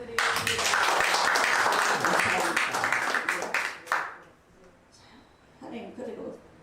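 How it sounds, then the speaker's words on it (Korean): Congregation clapping at a church thanksgiving worship service, a dense burst of applause that holds for about four seconds, then thins out into a quieter patch with a few scattered claps near the end. "박수 한번 부탁드리겠습니다."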